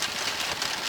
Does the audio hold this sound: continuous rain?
yes